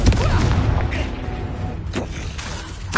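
A Confringo fire spell blast in the game Hogwarts Legacy, booming and crackling explosive bursts that roll together with a loud impact at the start and further blasts toward the end, no speech in between.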